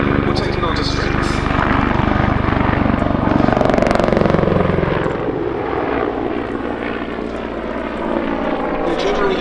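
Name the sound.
Czech Air Force Mil Mi-35 Hind helicopter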